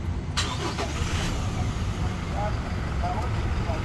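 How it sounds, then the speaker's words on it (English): A 2023 Toyota Hilux engine starts up and settles into a steady idle, heard close inside the cab with a continuous low rumble throughout. "Start engine."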